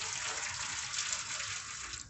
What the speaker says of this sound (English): I'm going to put some hot water in.